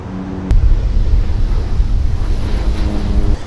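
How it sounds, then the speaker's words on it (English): Strong wind buffets a microphone outdoors near Manhattan, a dense, steady low rumble that jumps louder after a brief click and keeps roaring throughout. "it's getting extremely windy over there"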